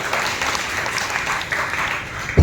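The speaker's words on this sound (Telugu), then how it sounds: "చప్పట్లు కొట్టి ప్రభు ఏర్పరచాడు" A church congregation clapping during Sunday worship, dense and continuous clapping at moderate loudness, ending in a brief low thump.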